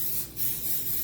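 Cooking spray hisses onto a waffle iron, a short close spray of about a second that swells slightly in a couple of pulses, with no talking.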